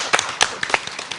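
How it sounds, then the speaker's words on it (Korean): Brief clapping from an audience at a book concert event, a short burst of several scattered hand claps close to the microphone, lasting about a second. "저희가 박수 한번 보낼까요?"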